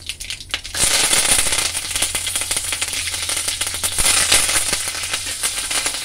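Curry leaves hit hot coconut oil already holding popped mustard seeds and dried red chillies, setting off a sudden loud burst of sputtering crackles that keeps popping and rattling up close.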